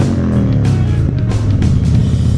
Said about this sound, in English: I'm just gonna rev bomb her real quick so she knows I'm alive